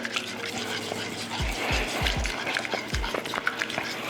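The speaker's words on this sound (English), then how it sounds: "Just whisk this up together real quick" Stella Rosa Black wine whisked quickly into a mixture, with a wet swishing and several dull low knocks of the whisk against the bowl.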